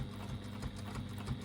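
A sewing machine stitches a second line along a strap in a steady, continuous mechanical whir with a faint rhythmic pulse, close and moderately quiet, with no talking.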